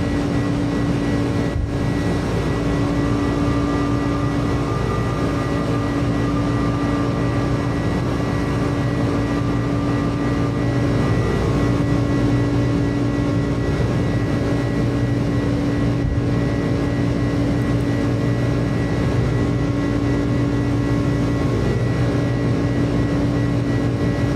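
Steady, loud jet engine roar of a UPS Airbus A300-600RF freighter on takeoff and initial climb in a flight simulator, a constant broadband drone with a faint tonal whine, no voices.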